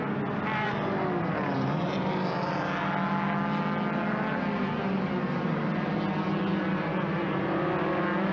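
Suzuki Esteem race cars in an ITC IJTC race lap a circuit as the leader heads toward turn 9, a continuous, moderately loud engine drone holding steady without a break.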